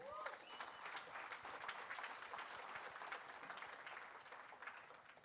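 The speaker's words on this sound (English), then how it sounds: "So also, round of applause to all of you again." Audience applause at a hackathon closing ceremony in Cape Town, a continuous wash of many hands clapping with scattered cheers, fairly distant and even throughout, with a brief vocal whoop near the start.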